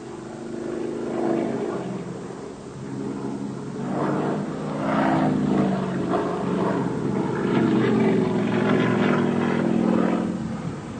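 An aerobatic airplane's propeller engine drones during repeated snap rolls, a continuous distant roar that swells and fades with wavering pitch as the aircraft maneuvers, heard alone.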